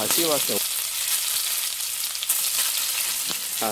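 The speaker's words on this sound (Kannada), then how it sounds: "ಅದೆಲ್ಲನೂ ಕಾದಿರುವಂಥ ಎಣ್ಣೆಗೆ ಹಾಕ್ಬಿಟ್ಟು ಚೆನ್ನಾಗಿ ಫ್ರೈ ಮಾಡಬೇಕು" Crushed garlic fries in hot oil with a loud, steady, bright sizzle, and a brief voice is heard at the very start.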